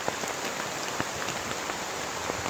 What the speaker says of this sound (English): Well, it's definitely raining.